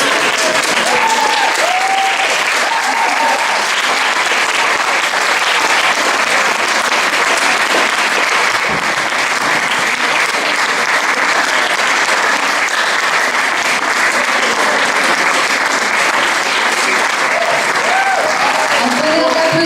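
A thunderous crowd ovation for a school theatre troupe after a stage performance, loud, dense clapping that runs unbroken for nearly twenty seconds, with faint voices and cheers mixed underneath.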